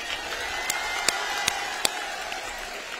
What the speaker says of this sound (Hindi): जोरदार तालियां आप लोगों के लिए।